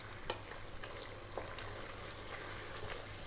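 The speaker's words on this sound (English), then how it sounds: "I'm going to be stirring now non-stop" Ethiopian beef stew cooking in a pan over medium-low heat is stirred steadily, with soft scraping strokes and a low continuous simmer-sizzle underneath.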